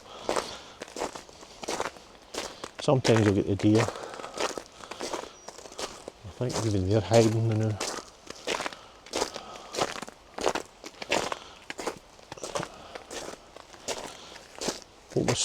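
Footsteps crunch steadily along a path through an abandoned, overgrown former park, with two short bursts of bird calls between the steps and someone talking over the walk.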